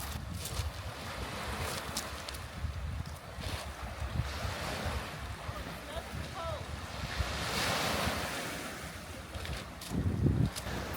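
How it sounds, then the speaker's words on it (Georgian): Waves washing onto a Greek seashore with clear water, a steady wash of surf under gusting wind noise, fairly close, with a louder swell late on. "ეხლა მოვსინჯოთ ზღვის სანაპირო"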